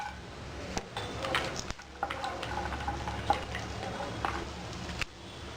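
Cashews frying in a pan for carrot halwa, with soft sizzling under intermittent scraping and clinking as a spoon stirs them, close and steady.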